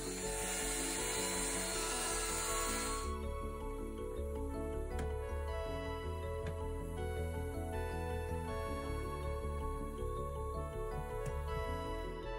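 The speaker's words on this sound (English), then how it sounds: "In this case I use this Festool, and in a couple of minutes I finish all my cut." A Festool power tool cuts galley parts aboard a 1983 Hallberg-Rassy 312 sailboat, running as a continuous loud motor whine with a harsh, noisy edge at the start, then settling into a steady drone with faint ticks.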